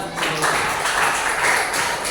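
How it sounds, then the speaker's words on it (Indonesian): Steady audience applause fills a school hall at a junior high school teachers' presentation, dense, even clapping held at a constant level for about two seconds, with no talking over it. "Ya baik, tepuk tangan buat."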